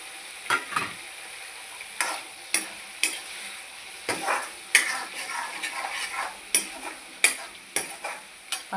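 Cauliflower tempered in coconut oil for an egg stir-fry sizzles steadily in a pan, punctuated by a string of sharp, regular scraping and stirring knocks from a spoon, close and fairly quiet.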